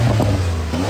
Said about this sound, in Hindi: ये गाड़ी शोर आ रही है पीछे से